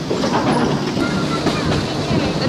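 A hybrid-drive MK48 locomotive at the LÁEV railway yard rumbles loudly and steadily at close range, with a rattling mechanical din that stays constant throughout.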